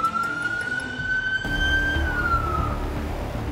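A wailing emergency siren rises and falls steadily over a constant rumble of road noise, loud and fairly close, with no talking.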